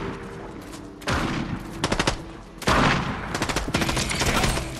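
Rapid bursts of pistol gunfire in a video game, several volleys of quick shots in clusters, loud and close, with no talk during the firing.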